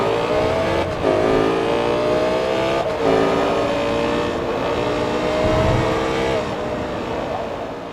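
A race car engine in an Atari 7800 racing game drones steadily and loudly for several seconds, its pitch rising and falling as it revs, with brief dips between gear changes and no voice over it.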